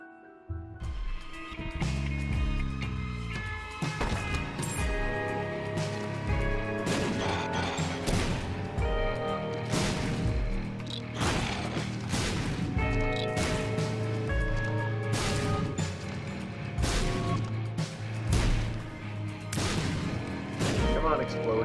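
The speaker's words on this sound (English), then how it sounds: "Come on, explosions. Do your job." Rapid bursts of cartoonish explosions from Binding of Isaac: Afterbirth+ pop and crash repeatedly over steady game music, loud and close throughout.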